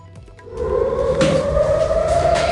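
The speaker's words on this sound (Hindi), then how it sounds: "सुन सकते हैं आप सायरन, सुन सकते हैं आप" A loud air-raid siren in Israel wails with a rising, sustained tone during Iranian missile interceptions, over a rumbling background, beginning after a brief quieter moment.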